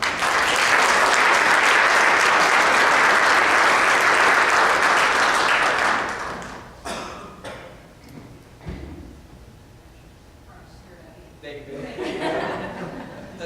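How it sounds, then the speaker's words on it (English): A crowd at a conference presentation claps loudly for several seconds, then the applause fades into scattered handclaps and quiet room noise. "let's give everyone a round of applause"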